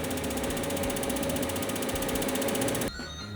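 A polishing machine runs during pre-polishing of a knife blade, a loud steady mechanical whir with a fast, regular ratcheting pulse that cuts off abruptly near the end, leaving a quieter hum.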